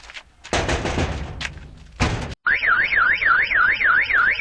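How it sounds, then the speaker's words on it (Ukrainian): A security alarm starts after a locked door is knocked on and tried: a few loud knocks and thuds, then a rising-and-falling electronic siren wails steadily and close. "Нічого собі, сигналізація є."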